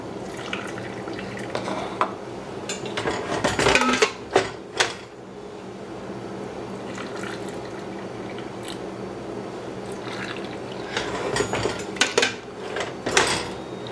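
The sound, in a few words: pouring hot mushroom canning liquid from a pot into a jar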